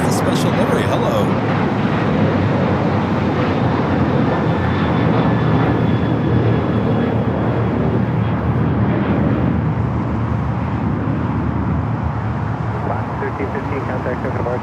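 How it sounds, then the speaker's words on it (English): American Eagle SkyWest regional jet taking off at LAX, a loud sustained engine roar that holds steady throughout and eases slightly toward the end, with a voice talking over it. "Next takeoff here on the south side, American Eagle Sky West, flight 4909, headed to Tucson"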